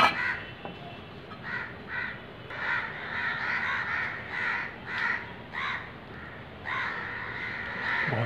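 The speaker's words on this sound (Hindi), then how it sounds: "दोस्तों। देखो कितने सारे कौए आ गए।" A large gathering of crows caws in Meerut during a cold spell, harsh calls rising in rhythmic bursts close by with brief pauses between volleys.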